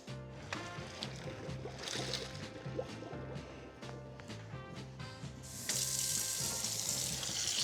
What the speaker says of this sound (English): I'm gonna drain it back here.